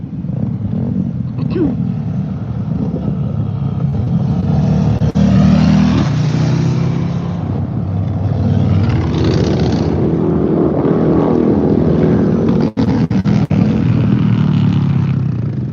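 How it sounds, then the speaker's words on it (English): Drag racing motorcycles accelerating behind a barrier at a race meet, heard from nearby as a loud, sustained engine roar that swells and fades over several seconds, with a few sharp knocks. "The drag racing is happening behind the barrier to my left."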